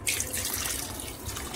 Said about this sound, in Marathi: आता आपण थोडं पाणी टाकूया।